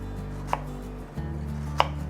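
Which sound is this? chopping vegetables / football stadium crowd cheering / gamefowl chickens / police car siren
chopping vegetables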